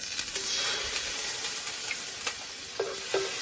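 Ginger garlic paste sizzles in hot oil over a medium flame, a close, steady hissing fry broken by a few sharp clicks and scrapes of a utensil stirring in the pan.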